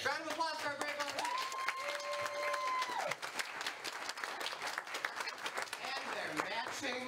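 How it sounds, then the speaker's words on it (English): An audience at an improv student showcase applauds the volunteers coming up on stage, steady clapping running under a speaker's voice and some tonal sounds. "Round of applause for our brave volunteers."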